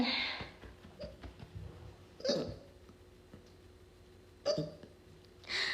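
A woman hiccups repeatedly while hosting a relaxed livestream, three distinct close hiccups a couple of seconds apart, the middle and last ones loudest, in an otherwise quiet room.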